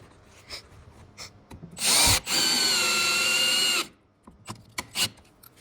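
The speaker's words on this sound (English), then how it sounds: "So I'm gonna throw in 2 more screws here." A power drill drives screws into boards at a 45-degree mitered corner, with a short burst and then a longer sustained whine close by, surrounded by quiet knocks and handling noise.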